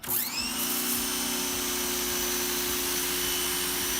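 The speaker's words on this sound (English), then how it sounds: "You'll hear the machine just charge itself for a second and then turn off" A Greenworks 2000 PSI electric pressure washer primes itself, starting with a short whine and then settling into a steady, loud motor drone with a fixed tonal hum that runs unbroken for the rest of the clip.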